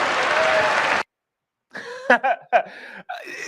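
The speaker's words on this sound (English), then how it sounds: "And then the laughter and then the applause after, I feel like should be very, very telling." Audience applause after a joke in a political speech, a dense burst of clapping that cuts off abruptly into silence, followed by a few close laughs and coughs.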